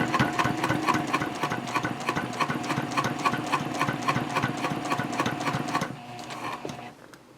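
A sewing machine stitches zipper tape onto a fabric triangle pouch, running in a steady rapid chatter of needle strokes for about six seconds before slowing and falling quieter.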